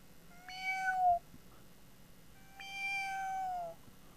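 A ginger cat meows twice, each call long and clear with a falling pitch, separated by a brief pause, close by in a quiet room.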